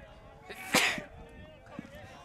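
A single sharp sneeze bursts out, fairly close, at a high school baseball game, followed by quiet breathy sounds and faint background murmur.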